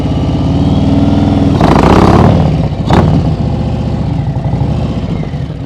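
A motorcycle engine, not a Road King, idles and revs in low gears during slow-speed riding practice, loud and close, with a sharp swell of throttle near the middle before settling back to a steady idle.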